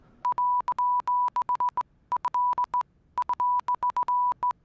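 Clean electronic beeps in The Stanley Parable, a single steady tone keyed in short and long bursts like Morse code, grouped into three rapid clusters with brief silences between.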